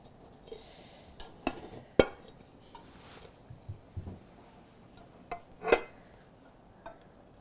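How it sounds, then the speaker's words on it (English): A pan of Pommes Anna potatoes is turned out onto a platter in a quiet kitchen, giving scattered soft clinks and knocks of metal and crockery, with one sharp clatter and a few light taps. "I'm gonna get my platter down just to protect my hands. I'm gonna flip it."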